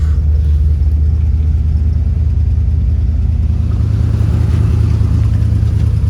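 A 1963 Corvette split-window with a 327 V8 and four-speed idles and runs, a loud steady low rumble heard close up, continuous throughout with no talking.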